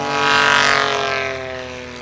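A 1956 Piper Super Cub's engine roars loud and close while the plane taxis at a mountain short-takeoff-and-landing practice event, a steady droning propeller tone that swells and then eases slightly.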